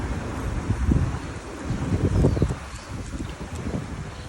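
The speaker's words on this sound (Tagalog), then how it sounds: "Malakas na yung hangin dito." Strong wind after a typhoon buffets the microphone in loud, gusting roars, rising and falling continuously with no talking.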